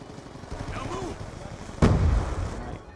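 An MSMC submachine gun fires in Call of Duty Black Ops 2 as a sudden loud burst partway through, following quieter game noise, with a voice audible earlier.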